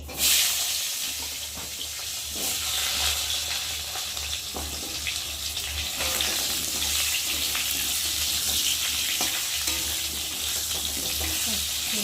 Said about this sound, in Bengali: এখন আমি আলুগুলো দিয়ে ভালো করে ভেজে নেব